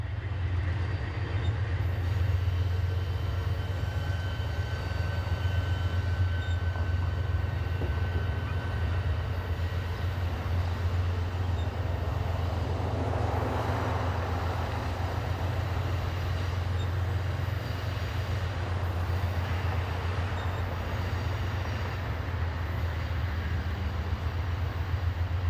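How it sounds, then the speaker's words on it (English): Amtrak 29, a passenger train departing Washington under power, rumbles as a steady low engine drone with a faint rolling wash throughout, sustained and fairly distant, with no talk. "It is normal practice to conduct a brake test while under power on departure."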